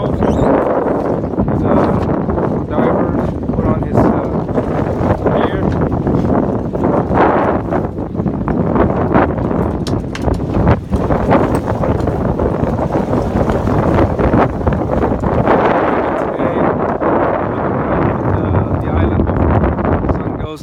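Steady, loud wind buffets the microphone on a boat off Catalina Island during lobster hooping, a constant roaring rumble throughout, with people talking underneath.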